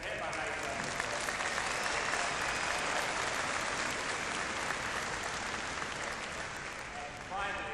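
A full hall of people claps continuously at a university convocation, a thick, even wash of applause lasting nearly eight seconds.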